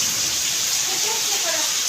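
Steady rain hisses down during a storm in Bangalore, with a faint low rumble of thunder and soft murmurs in the background.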